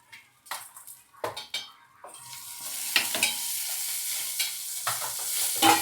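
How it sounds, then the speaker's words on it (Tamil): Coriander seeds and fenugreek being sautéed in a pan with onion, starting with a run of clinks and scrapes of a metal spoon and then settling into a loud, steady close sizzle with occasional stirring strokes. "இதெல்லாம் இப்போ பச்சை வாசம் போகிற வரைக்கும் வதக்கணும்"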